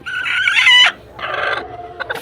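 Close, loud desi tiger breed chicken calls: a drawn-out crow followed by a short pause and a burst of clucking, ending with sharp squawks.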